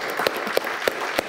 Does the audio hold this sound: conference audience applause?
yes